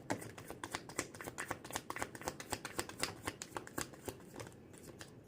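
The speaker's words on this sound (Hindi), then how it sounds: "लास्ट शफल है।" Tarot cards being riffled and shuffled by hand in a quiet room, a steady run of soft, crisp flutters and slaps close up, with no voices.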